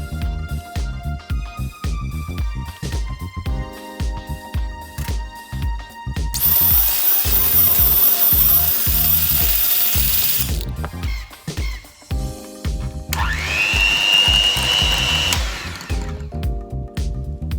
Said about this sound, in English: yolk and mix with electric mixer at low speed until it becomes soft.